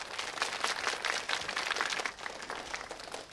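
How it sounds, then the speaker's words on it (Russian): Studio audience at a televised quiz show applauding, a steady wash of many hands clapping throughout, fairly loud and close, tapering slightly near the end. "А теперь можно хлопать."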